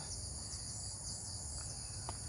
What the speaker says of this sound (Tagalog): Maririnig mo lang yung mga huni ng kuliglig na nakaka-relax.